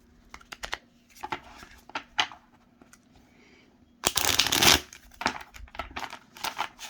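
Celestial Tarot cards, a slightly large deck, shuffled by hand in quick riffling bursts of papery clicks and rustles, with one louder, denser flurry of shuffling midway, close and alone.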